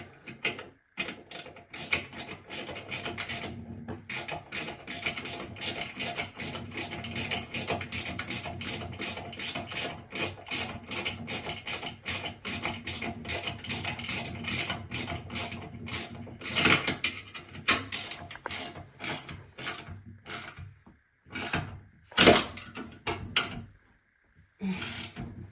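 Bolts being tightened on a Grohe wall-hung toilet frame, giving a long run of rapid mechanical ratcheting clicks, close and steady, broken by a few louder knocks toward the end.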